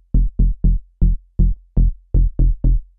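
Synth bass run through Culture Vulture distortion, nine short punchy low notes in a steady bouncing rhythm with gritty upper harmonics, loud and alone.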